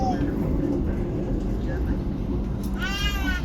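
Steady low rumble inside an Argo Parahyangan passenger train running at speed, continuous and even throughout, with a brief high tonal whine rising near the end.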